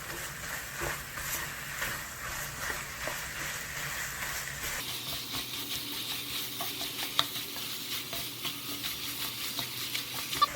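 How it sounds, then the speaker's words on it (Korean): Parboiled pork belly stir-fried in a pan crackles and sizzles up close, with a steady hiss punctuated by spatula scrapes, the frying growing brighter and sharper about halfway through. "이제 이건 이제 삼겹살을 먼저 넣고 볶아요"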